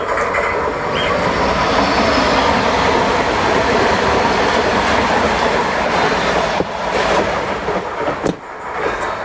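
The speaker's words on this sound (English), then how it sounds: "there is a big train line running through" A train rolls past on the railway line beside a campsite in Spain, the rumble and clatter of wagons loud and sustained and fading near the end, with no talk.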